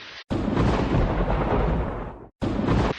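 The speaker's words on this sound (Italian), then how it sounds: "Come sentite i tuoni ragazzi, tuoni." Thunder from a rainstorm rolls as a loud, sustained, deep rumble lasting a couple of seconds, then a fresh rumble starts just after a brief gap.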